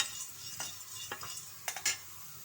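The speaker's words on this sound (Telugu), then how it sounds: "ఇవన్నీ కారపొడి కోసం అని చెప్పి శనగపప్పు వేసాను. వేయించుకుంటున్నా." Chana dal roasting dry in a pan, a faint, soft hiss with a few light scrapes and rattles as the lentils are stirred.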